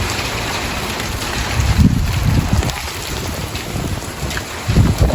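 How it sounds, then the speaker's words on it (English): Strong gusty storm wind roars and buffets the microphone continuously, swelling in surges, as sleet and hail are driven sideways during a winter thunderstorm. "The wind's making it go sideways."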